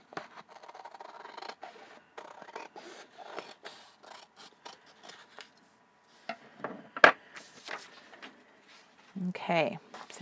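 Scissors trim paper along its edge in a series of crisp, close snips and slides, irregular and fairly quiet, with a sharper cut midway and a voice speaking softly near the end.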